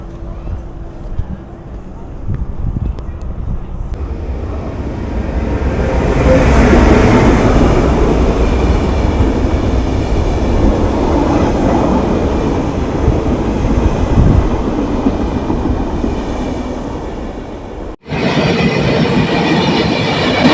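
A train rumbles past at close range through a village railway station in Austria, a steady low roar with rattling wheels that swells and holds, with some voices faintly underneath.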